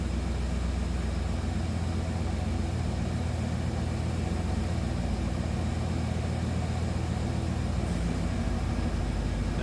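A 1987 Chevrolet Monte Carlo SS Aerocoupe's stock engine idling, a steady low rumble heard alone at a constant even level throughout.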